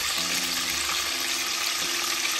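Silver hake pieces frying in a pan give a constant, close crackling sizzle with a faint steady hum beneath, unbroken for the whole moment and free of any voice.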